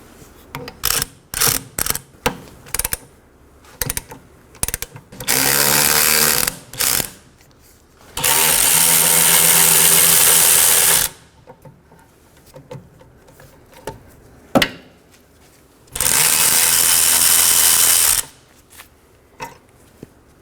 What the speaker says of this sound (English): Now I'm going to remove both my 14mm caliper slider pin bolts.